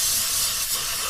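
Gumout carb and choke cleaner sprayed from an aerosol can onto a Toyota Tundra throttle body, one continuous close, loud hiss lasting the whole moment.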